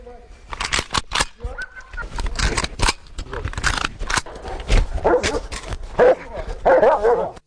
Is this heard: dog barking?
yes